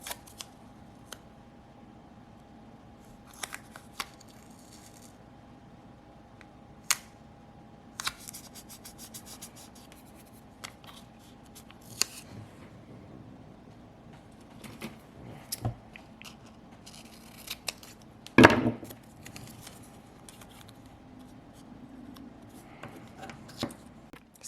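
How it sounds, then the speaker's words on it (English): Painter's tape is pulled and pressed onto acrylic keychain blanks, with scattered soft rips, sharp clicks and light handling noises against a quiet background. One louder tearing rip comes near the end. "I am just going to use painter's tape. And I just want to tape off a stripe on each of these."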